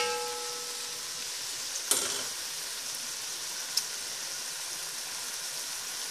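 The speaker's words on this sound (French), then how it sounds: "Je mélange bien." Caramel pork with mushrooms sizzles softly in a pan, a faint steady hiss with a couple of sharp clicks of a utensil stirring, no talking.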